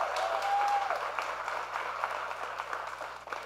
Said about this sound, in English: Let's give a giant round of applause to Marianna Wartella